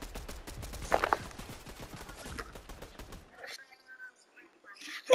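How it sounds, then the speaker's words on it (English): A Fortnite minigun fires a rapid, continuous stream of shots for about three seconds, a dense rattling burst that then cuts off, followed by quieter game sounds. "You've got the minigun"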